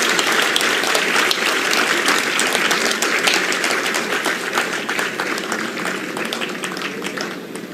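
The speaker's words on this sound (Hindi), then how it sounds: "ताली ढंग से बजा दो" Audience applause at a rural health training centre hospital inauguration, a dense, steady wash of many hands clapping loudly throughout, tapering slightly toward the end.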